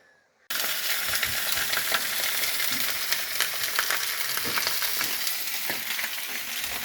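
Food sizzles in a pan while dinner cooks at a seaside spot in Tasmania; a bright, steady frying hiss starts abruptly after a brief quiet moment and carries on with small crackles.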